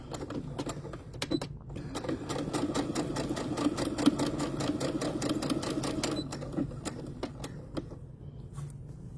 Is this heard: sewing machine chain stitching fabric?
yes